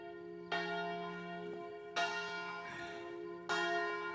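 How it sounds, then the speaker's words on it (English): Church bells ring out in slow, evenly spaced strikes, each tone ringing on and decaying before the next, heard from a moderate distance. "See the bells ringing beyond the trees there."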